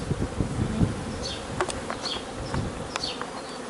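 Honeybees swarm around an opened beehive during a hive inspection, a dense close buzzing drone with individual bees zipping past the microphone in brief higher whines.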